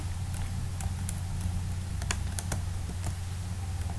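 Fast, irregular clicking of keys on a computer keyboard during a Debian 8 SSH and NTP setup, close and steady over a low hum, with no talk.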